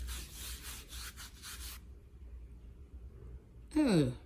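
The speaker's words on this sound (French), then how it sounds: "Je frotte quand je frotte." A tissue rubs over makeup swatches on skin to test a Magic Studio Cabaret Colors eyeshadow palette. About two seconds of quick, close rhythmic rubbing strokes are followed by a quiet pause, then a brief vocal sound.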